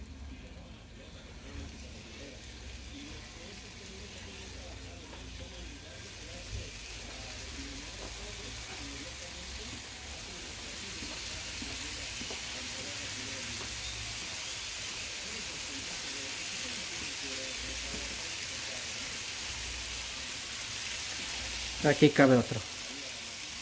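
Shrimp sizzle on a hot griddle with a steady, moderately loud frying hiss throughout, briefly joined near the end by a short clatter and a few spoken words.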